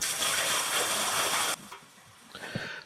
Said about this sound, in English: So for this size shower, I'm going to put in about 20 gallons of water.